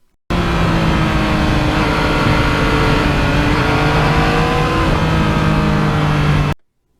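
A 2020 Yamaha MT-09 motorcycle engine drones steadily while riding, a loud continuous hum with subtle shifts in pitch, starting and stopping abruptly.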